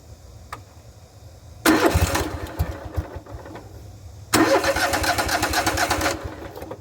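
A John Deere riding mower engine cranks and catches twice, each start bursting into a loud, close, rough running roar after a quiet stretch with faint clicks.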